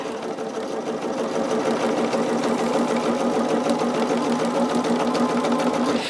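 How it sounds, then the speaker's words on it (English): A sewing machine chain-stitches six quilt pieces in one continuous run, its rapid, steady mechanical hum and needle clatter loud and close for the whole stretch with no talking. "what I'm doing right now is I'm just going in and chain stitching all 6 of my pieces here"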